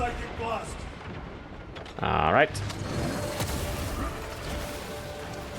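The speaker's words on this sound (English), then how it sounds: "Oh wow. I love this plasma cannon." Heavy plasma cannon blasts in the Warhammer 40K Space Marine 2 video game against Tyranids, a sharp burst of energy discharge among rumbling, mechanical battle noise, with someone talking briefly.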